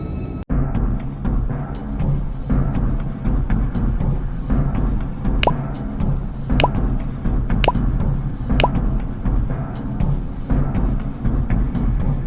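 Cartoon drops fall from opened bottles into a sphere, scattered bright drip and plop sounds repeating over a steady low rumbling background, without speech.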